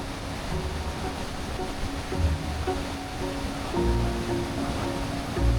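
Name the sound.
waterfall at the Temperance River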